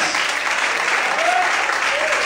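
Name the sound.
church congregation applauding the Lord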